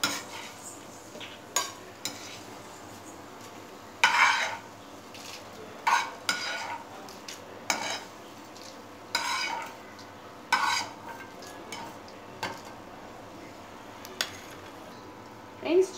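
Fried seeds and spices stirred and scooped from a pan for chintha chiguru pachadi, with intermittent scraping and scooping strokes every couple of seconds over a faint sizzle, a voice murmuring briefly.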